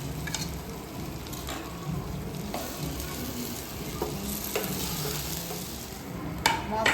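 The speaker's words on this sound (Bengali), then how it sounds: "মশলাটা ভাজা হয়ে গেছে" Ginger, garlic and turmeric paste with chopped green chilli frying in a hot pan, a steady close sizzle with scraping stirs and occasional clinks of a spatula, no voices.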